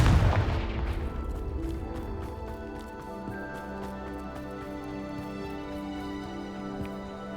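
A Confringo blasting curse explodes in the game Hogwarts Legacy: one loud, close boom at the start that decays into a long ringing, tonal tail with faint crackles.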